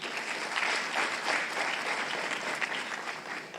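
Sustained applause from an audience at a news-broadcast event, steady and dense throughout with no breaks, fairly loud and continuous.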